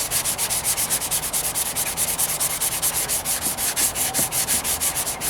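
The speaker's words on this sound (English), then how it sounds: "By me wetting the sandpaper, right, I'm de-chalking it, you could say, because otherwise you just got paint on smear working that" Sandpaper wet-sanding the painted trunk and rear bumper of a 1998 Toyota Corolla, with close, steady back-and-forth strokes in a fast even rhythm and no talking.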